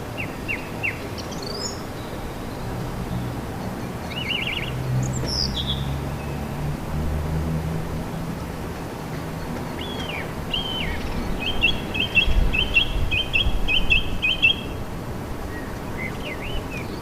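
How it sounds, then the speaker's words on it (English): A song thrush sings outdoors in short, varied phrases of repeated notes, moderately distant over a steady background hiss, with a denser repeated phrase near the end. "the beginning of this audio is replaced by the song thrush"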